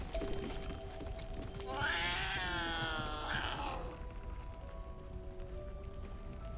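Cat character in the Baldur's Gate 3 video game gives a single drawn-out, strained hiss-like yowl lasting about two seconds. It is moderately loud over a low game background hum, with no talk.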